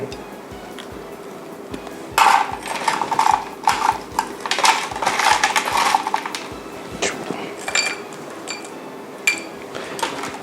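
Crunchy corn flake krongkraeng snack is scooped onto a plate with a metal utensil, producing a run of close scraping, rattling and clinking with short irregular bursts and light taps, quieter near the end.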